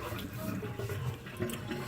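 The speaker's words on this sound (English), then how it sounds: "Alright, so we're going to dump out all of this water." Water poured out of a cooking pot while making spaghetti squash with meatballs, a steady close splashing rush lasting a couple of seconds.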